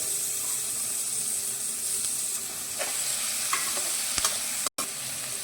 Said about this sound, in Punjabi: ਪਿਆਜ਼ ਹੀ ਹਲਕਾ ਜਿਹਾ ਬ੍ਰਾਊਨ ਹੋ ਗਿਆ ਤੇ ਹੁਣ ਆਪਾਂ ਇਹਦੇ ਵਿੱਚ ਇੱਕ ਟਮਾਟਰ ਪਾ ਦਿੰਨੇ ਆ ਬਰੀਕ ਕੱਟਿਆ ਹੋਇਆ